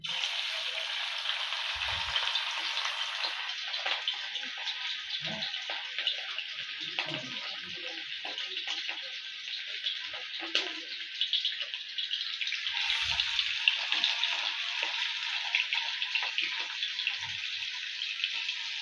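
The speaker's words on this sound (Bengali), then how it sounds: "এভাবে একে একে ভাজে নেব বন্ধুরা এভাবে ভাজলে মচমচে হবে" Meat cutlets for a homemade beef tikki deep-fry in a pan of oil, giving a steady, close hiss and crackle of bubbling fat that runs the whole time with faint scattered clicks.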